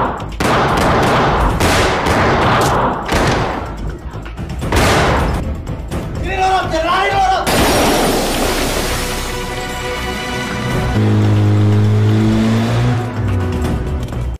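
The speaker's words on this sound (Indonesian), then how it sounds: "Dijemput Fatir, mereka berdua pun terlibat kejar-kejaran yang ketika sudah ketahuan, baku tembak pun tak terhindarkan lagi." A film car chase turning into a shootout: loud, close engines revving and accelerating, then bursts of rapid gunfire, with a brief musical swell and roaring motion later, dense and continuous throughout.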